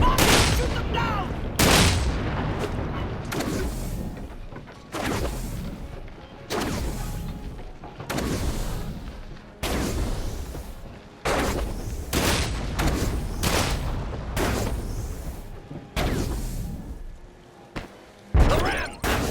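Repeated bursts of gunfire and booming blasts come from combat in the video game Sunset Overdrive. Loud volleys are separated by short gaps.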